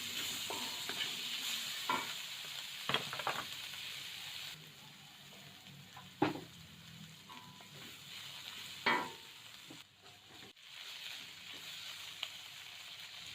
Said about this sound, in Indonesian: jadi terlebih dahulu kita tumis wortel dan buncisnya sampai agak